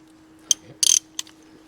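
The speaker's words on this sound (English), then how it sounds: "what we're going to do is get this one unscrewed. It's a 10mm as well." Ratchet wrench loosening a 10mm ignition coil bolt on a car engine during a spark plug change: a lone click, then a quick burst of several rapid ratcheting clicks, then another single click, close and clear with no talking.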